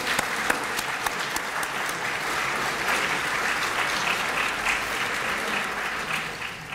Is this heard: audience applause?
yes